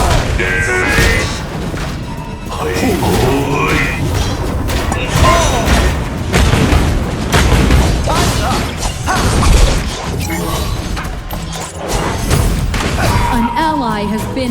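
Explosion detonating in the mobile battle arena game Arena of Valor, a loud booming crash within a dense, continuous mix of game effects and clashing impacts, with game voice lines heard throughout.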